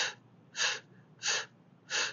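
Breath of fire yoga breathing during a gentle yoga flow: four sharp, evenly spaced forceful exhales through the nose, each a short hissing burst, close and alone.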